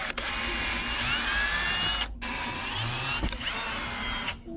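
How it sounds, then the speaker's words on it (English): A handheld drill bores pilot holes into a plastic Circuit Edition spoiler for a GR Corolla, a close, steady high-pitched whirring with two short pauses between bursts. "it's actually really easy to drill through, so just watch out so that way the drill doesn't go too deep"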